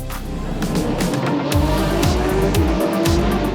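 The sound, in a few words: GT3 race cars starting race at Jerez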